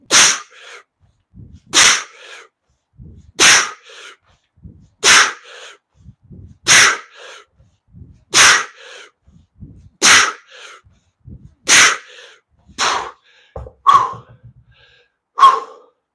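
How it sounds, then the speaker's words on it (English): Strong, forceful breaths during a single-kettlebell strength workout, roughly ten sharp bursts at a steady rhythm of about one every 1.7 seconds, close and loud with no talking. "Deep breath."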